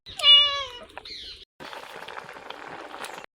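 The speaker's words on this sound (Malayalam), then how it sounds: "നമ്മളെ പൂച്ചനെ ഞാൻ ചവിട്ടിട്ട് തന്നെ അറിയാണ്ട് ബാലിന് ചവിട്ടിപ്പോയി പൂച്ചേനെ" A cat lets out one loud, pained meow after its tail is stepped on, rising then falling in pitch, followed by a brief squeal and a stretch of rustling movement.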